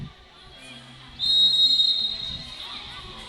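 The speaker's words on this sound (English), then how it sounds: "Now the whistle is blown." A referee's whistle shrills loud and sustained for about a second during a women's volleyball match in a gym, over low crowd murmur and scattered chatter.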